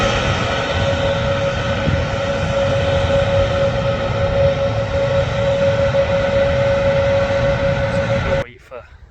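Steady, loud jet engine roar from an Airbus A321neo at Manchester Airport, a constant broadband rumble with a sustained whine holding evenly for about eight seconds before abruptly dropping away, with faint voices in the background.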